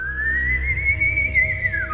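A person whistles one long, steady rising-and-falling tone that imitates the legendary Silbón's whistle, loud and close with no talking.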